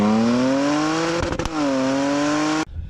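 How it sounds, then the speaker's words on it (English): A supercharged Jaguar F-Pace all-wheel-drive SUV holds a steady, harmonically rich engine tone with a brief rasp in the middle before cutting off abruptly near the end. "You hear the exhaust note."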